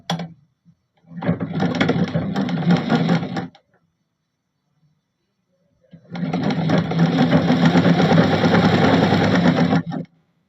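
A sewing machine stitching folded fabric, running in two steady bursts of rapid mechanical whirring and clatter, the second one longer, with quiet pauses between them.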